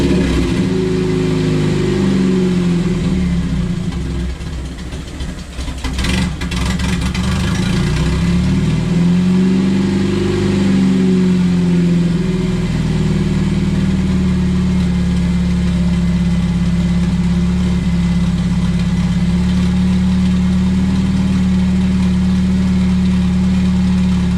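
A Honda K24 engine swapped into a Porsche 911 fires up for the first time, loud and close, cranking briefly, then revving up and down before settling into a steady idle.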